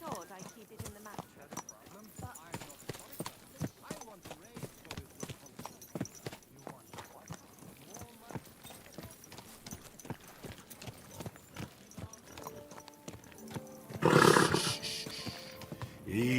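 Horse hooves clip-clopping in the medieval video game Kingdom Come: Deliverance 2, a steady rhythmic stream of hoofbeats under game dialogue, with a louder, busier burst of noise near the end.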